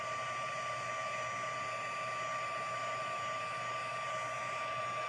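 A heat tool melting embossing powder for craft heat embossing gives a steady, close, even blowing whir with a constant tonal hum throughout, no voices.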